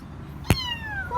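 A kitten gives a clear, high meow that slides downward in pitch, preceded by a sharp tap and followed by the start of a second cry, close and alone over quiet background noise.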